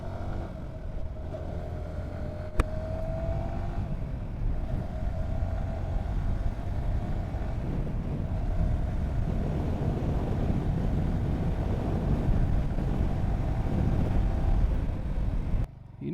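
A Yamaha R15M sport motorcycle, a 2026 model, pushed toward top speed, its engine droning steadily with heavy wind rush over the microphone, loud and continuous throughout.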